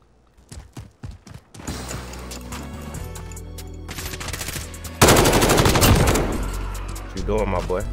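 Bursts of automatic gunfire from Call of Duty: Modern Warfare (2019) gameplay, starting with a few scattered shots, then sustained rapid fire growing louder and denser, with a sharp, loud volley near the end.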